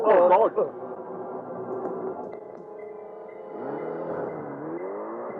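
A car engine runs steadily at moderate volume in place of an expected bomb blast, a sustained harmonic hum after a brief burst of voice at the start.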